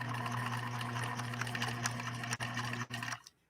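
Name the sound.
PFAFF 1222E sewing machine stitching a Batman symbol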